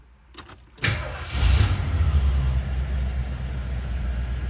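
A car engine cranks briefly after a few faint clicks, then catches and settles into a steady low idle rumble, close and fairly loud, with no talking.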